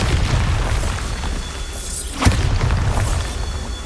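A Bombarda explosion spell in the game Hogwarts Legacy bursts as one sharp boom at mid-clip over a loud, rumbling in-game background.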